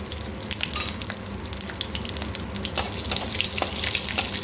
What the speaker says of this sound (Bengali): এবার দেখুন এই তেলের মধ্যে দিয়ে দেবো একটা চেরা কাঁচা লঙ্কা একটু কালো জিরে ফোড়নে